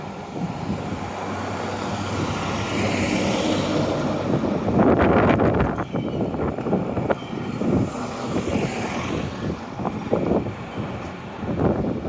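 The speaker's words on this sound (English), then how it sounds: "Little breezy down here." Wind gusts buffet the microphone outdoors while walking through Victory Park near Dalhousie campus in Halifax. A steady broadband rumble swells and eases, with distant traffic mixed in.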